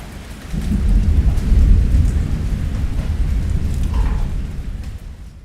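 A thunderstorm rolls on a stormy night, deep thunder rumbling in a long swell over steady rain hissing on surfaces, then fading toward the end.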